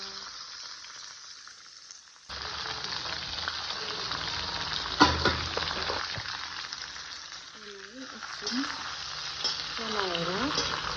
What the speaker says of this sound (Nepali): तेलमा अघि नैको राजाको सुकुटी राख्ने र एकछिन फ्राई गर्ने है